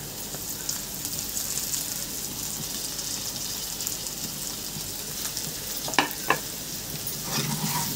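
Potatoes and capsicum frying in a pan while being stirred: a steady, dense sizzle throughout, with a couple of sharp utensil clinks near the end.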